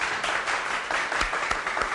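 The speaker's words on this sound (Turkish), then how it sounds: "Tutacaksın tabii bir alkış alalım." Applause from an audience, a dense steady patter of clapping at moderate level throughout, with a few sharper claps standing out now and then.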